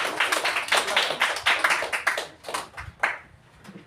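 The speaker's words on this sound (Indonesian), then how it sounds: "Kita berikan tepuk tangan untuk kelompok 2." A classroom of students claps for a presenting group, a close burst of quick rhythmic hand claps that thins out and fades toward the end.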